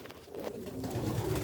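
Soft pigeon coos in a loft, low murmuring calls rolling continuously at close range, faint under a diffuse room hiss.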